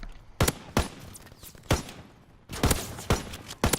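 Gunfire in Call of Duty: WWII, with sharp, loud shots and short bursts spaced irregularly across a few seconds over faint game background noise.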